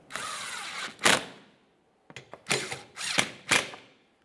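A hand ratchet snugs up 10mm mounting bolts on a 2014–2018 Mazda 3 during a front CV axle replacement, with close clicking bursts in short strokes, one sharp pause, then several quick ratcheting pulls.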